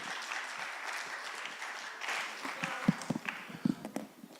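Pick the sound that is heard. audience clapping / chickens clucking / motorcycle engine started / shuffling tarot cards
audience clapping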